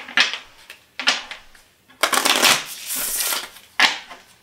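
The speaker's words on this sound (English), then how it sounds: "I like the way they shuffle." A tarot card deck being shuffled in four loud, close bursts of riffling cards, each a second or so long, with brief pauses between.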